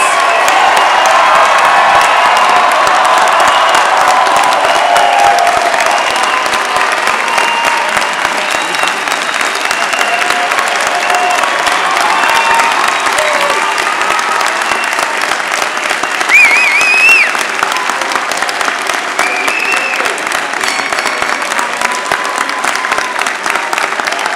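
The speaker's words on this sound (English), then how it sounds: "Please rise and give our graduates a round of applause." A large commencement crowd at WPI's 2017 degree ceremony applauds the graduates in loud, sustained clapping with scattered cheers and whoops, carrying on unbroken for about twenty-four seconds.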